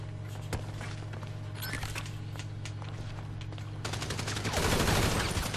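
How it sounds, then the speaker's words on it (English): In a video-game bank heist map, random gunfire crackles as scattered shots, building into a dense volley of rapid reports toward the end over a steady low hum. "I was caught up in random fire here"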